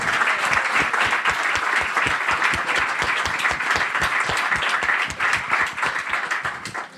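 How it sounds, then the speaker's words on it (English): An audience at an Assyrian community event claps and applauds steadily for several seconds, a dense, loud wash of many hands with some rhythmic clapping standing out, easing slightly toward the end. "let's get a round of applause for these guys"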